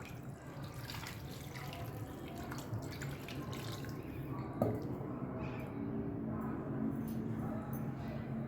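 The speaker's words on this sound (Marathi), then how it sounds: "अर्धा किलो चिकन घेतलं आहे. याला मस्त आपण धुवून घेऊया." Running tap water over half a kilo of raw chicken being washed, a steady faint splashing stream with occasional drips and squishy handling sounds, fairly quiet and continuous, with no talking.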